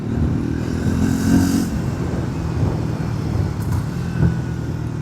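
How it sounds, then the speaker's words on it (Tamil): A 350cc motorcycle engine gives a steady low exhaust rumble at moderate loudness, running continuously without talk, with a slight swell partway through. "எக்ஸாஸ்ட் நோட்லேயும் பெரிய மாற்றம் இல்லை."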